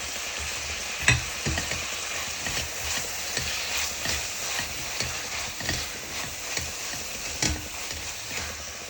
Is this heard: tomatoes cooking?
yes